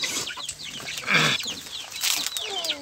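Kadaknath chickens cluck and call on a small poultry farm in Balrampur, Chhattisgarh, several birds close by with repeated clucks and one louder squawk, and other fowl chirp around them.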